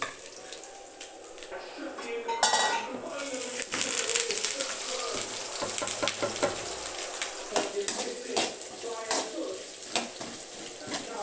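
Onions with ginger sautéing in a pan until golden for idli upma, a steady low sizzle with sharp clinks and scrapes of a spatula stirring at intervals, fairly close, while a voice talks intermittently.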